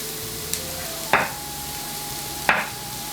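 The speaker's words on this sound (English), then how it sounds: "Sweat off this onion in the pan here." Onion sweats in a frying pan with a constant, even hiss of sizzling, broken by two sharp knocks of a utensil against the pan, close and alone without speech.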